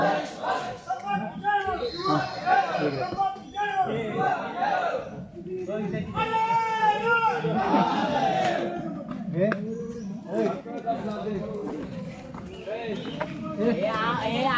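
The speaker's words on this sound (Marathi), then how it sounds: "प्रचंड अशी गर्दी होत आहे गाईस शिवभक्तांची राज्याभिषेक सोहळ्यासाठी" A huge crowd of devotees gathers at Raigad fort for the coronation ceremony, a dense, continuous roar of many voices with shouts rising and falling throughout, close and loud.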